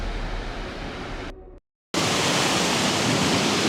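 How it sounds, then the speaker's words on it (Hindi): Rushing water of the Kanchoti waterfall in a Himalayan valley, a loud, broad continuous roar that cuts out briefly to silence and then resumes just as strong, with no voices. "यहीं पास में एक बड़ा वाटरफॉल है, कंचोती वाटरफॉल।"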